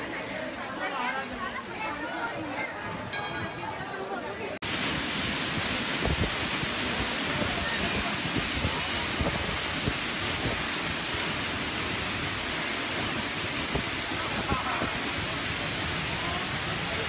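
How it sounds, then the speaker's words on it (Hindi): A natural waterfall behind Suryakund at Lohargal in the Rajasthan hills gives a loud, steady, broadband roar that takes over after a few seconds of someone speaking and continues unbroken. "सूर्यकुंड के पीछे जो झरना है, प्राकृतिक झरना"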